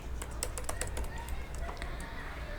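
Rapid clicking keystrokes on a computer keyboard while entering HTML code, a quick irregular burst of close taps over a steady low background hum that thins out toward the end.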